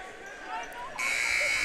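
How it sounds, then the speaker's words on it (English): A basketball game buzzer sounds at a boys' high school game as a timeout ends, a steady loud tone starting partway through and holding to the end over gym crowd noise and an announcer's voice. "There's the buzzer, final buzzer, as the timeout is over."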